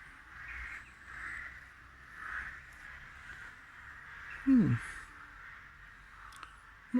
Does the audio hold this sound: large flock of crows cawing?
yes